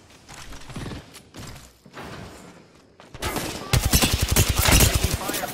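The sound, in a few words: gunfire from the video game Apex Legends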